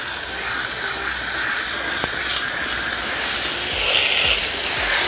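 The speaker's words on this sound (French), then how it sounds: "Là, on va passer au rinçage." Water spraying hard onto a car tire and wheel during a hand wash, a loud continuous hiss and splash with a brief click partway through.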